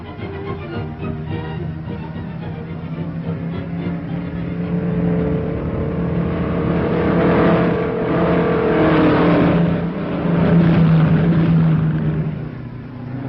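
Race cars roar around a racetrack, engines droning and swelling as they pass, growing louder in the middle and late stretches with overlapping revving tones, a continuous loud motor din without talking.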